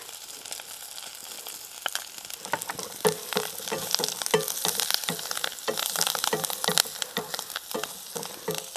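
Continuous crackling sizzle of spices and turmeric frying in a hot pan for a water apple coconut chammanthi, with stirring scrapes throughout and no talk.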